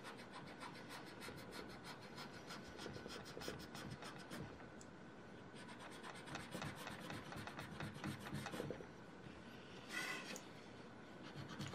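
A small eraser rubs out pencil marks on paper in repeated quick back-and-forth strokes, dense and close, with a brief pause midway and no talking.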